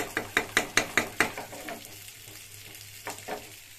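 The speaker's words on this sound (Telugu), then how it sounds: "ఇదేమో ఫిష్ ఫ్రై అవుతుంది." Fish frying in hot oil in a home kitchen, a quick series of sharp stirring clinks over a soft steady sizzle, then a quieter sizzle with two more scrapes near the end, close and moderately quiet.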